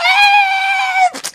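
A person's voice imitates a Lara Croft scream, giving one loud, close, sustained high cry that wavers for about a second before breaking into short breathy bursts.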